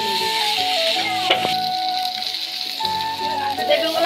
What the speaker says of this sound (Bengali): সেদ্ধ করা আলুগুলো দিয়ে দিলাম মশলার মধ্যে, ভালো করে